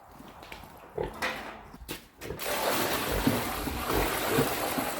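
Pigs kept indoors on a small UK farm grunt in scattered low snorts under a broad rushing noise that swells halfway through and stays steady to the end, fairly close, with no talk.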